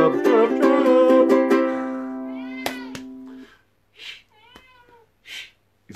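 A cat perched on a cat tree yowls loudly in a long, drawn-out meow with rich harmonics, followed by a few shorter, fainter meows and breathy noises, close to the listener.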